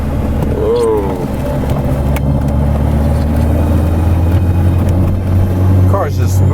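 A vintage Citroën DS drives with a steady, loud engine hum and road rumble from inside the cabin. Voices talk over it.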